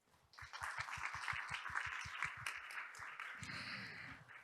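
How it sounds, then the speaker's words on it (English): Audience applause at a Jeju Forum plenary session on the peaceful ending of the Cold War: a dense, steady wash of clapping from a large crowd, sustained throughout, with low thumps early on and a muffled voice joining near the end. "Please give another big round of applause."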